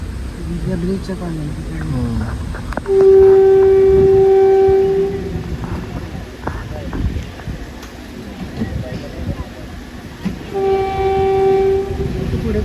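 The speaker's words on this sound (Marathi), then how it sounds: "आता याची ट्रेन आली वाटतं आवाज आला का" A train rumbles past nearby with two long, loud horn blasts, one early and one near the end, while people talk over the clatter.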